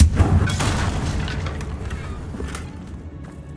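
A Confringo fire spell explodes in Hogwarts Legacy, opening with a loud, deep boom that rolls into a long rumbling decay with scattered debris crackles, close and heavy, no talking.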